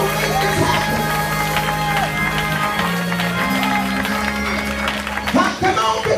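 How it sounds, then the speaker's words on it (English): Audience at a prayer summit claps steadily under loud overlapping talk, with a continuous crowd murmur and rhythmic hand claps across the whole stretch. "Come on, keep clapping."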